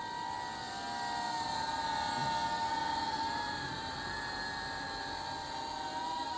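A faint, steady high-pitched motor whine hums continuously, like a small drone hovering at a distance.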